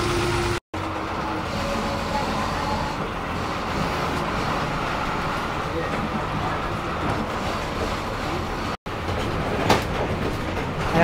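A Maharashtra state transport bus on the Borivali to Shindkheda route moving off and driving, with a steady engine rumble and road noise that holds constant throughout, heard from inside the bus.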